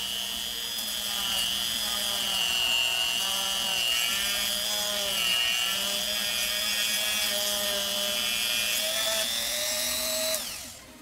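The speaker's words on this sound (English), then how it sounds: "you want to turn it on and start sanding." A Hyper Tough rotary tool sands plastic with a sanding block. Its steady, high-pitched motor whine runs loud and close for about ten seconds with a slight wavering in pitch, then cuts off abruptly at the end. No one speaks.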